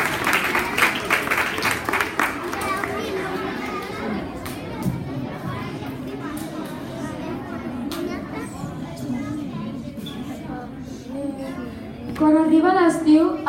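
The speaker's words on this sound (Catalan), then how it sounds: "Un aplaudiment." Applause from an audience at a children's school prize event, brief clapping at the start that fades into chatter and children's voices, with kids talking over a murmuring crowd toward the end.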